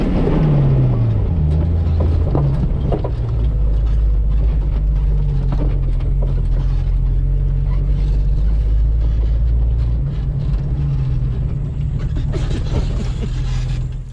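A vehicle drives hard in two-wheel drive with its central axle disconnected on Ozark trails near the Mulberry River. A loud low engine roar shifts through gears and holds strong throughout, with rattles and bumps over it.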